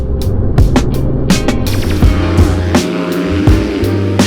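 Full-race KTM 250SXF motocross bike engine, a loud close-up buzzing drone broken by repeated sharp revs and crackles in an uneven rhythm, running alone without any talk.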